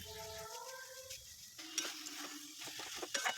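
Minced meat with turmeric, Kashmiri chilli powder and cumin powder is stirred and fried in a pan. A soft sizzle runs under a few scraping stir strokes, and a brief tone fades out at the start.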